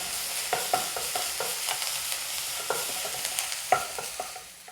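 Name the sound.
sautéing garlic and ginger in a pan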